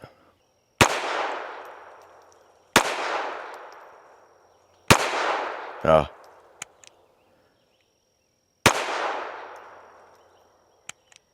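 Shots fired from a Retay RXP 22 handgun, four loud, sharp reports spaced about two seconds apart, each with a ringing decay, plus a brief metallic rattle and a few faint clicks between them.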